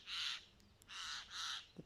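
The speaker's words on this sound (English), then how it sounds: "you can hear a lot of birds." Crows caw outdoors in three long, harsh bursts on a mild day, followed by a short faint chirp, with no talking.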